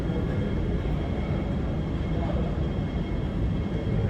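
Airplane noise at Hong Kong airport, heard as a loud, steady low roar throughout with no clear speech.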